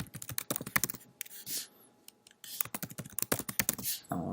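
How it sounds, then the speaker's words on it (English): Fast typing on a computer keyboard, a close clatter of quick keystrokes in bursts with one brief pause in the middle and no voices. "just go ahead and type in a new password"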